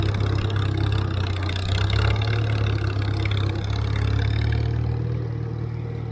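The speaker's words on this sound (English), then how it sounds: "This tractor's got a snappy governor. Watch when I come up this little hill." Farmall tractor engine climbing a small hill on a hay farm, a steady close chugging drone with clattering mechanical texture as the governor holds the engine speed under the added load.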